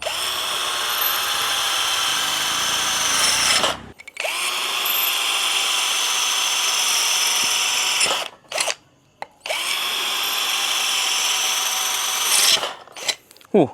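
A DCA ADJZ1202 12V cordless drill bores into ceramic tile in three long, steady bursts of whining motor noise, each cut off abruptly with brief pauses between, loud and close with no talking.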